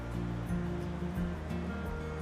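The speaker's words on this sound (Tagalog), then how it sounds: "Ganyan kalakas ang bagsak ng tubig dumadagundong." Water pours down the Ambuklao Dam spillway in a continuous, dense roar, heard from a distance as a steady rushing wash without pause.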